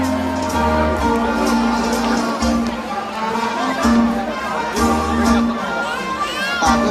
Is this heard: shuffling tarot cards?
no